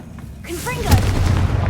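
Confringo explosion spell blast in the video game Hogwarts Legacy, a sharp whooshing burst followed by a booming rumble, loud and close, with no talking.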